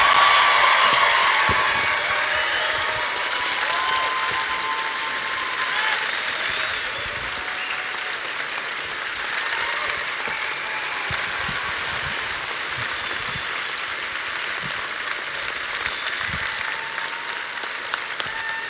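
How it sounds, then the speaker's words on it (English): A large crowd at a Calgary fan expo panel applauds steadily, a dense wash of clapping that starts strong and eases slightly, continuing at a constant level throughout. "So big round of applause, Manu Bennett."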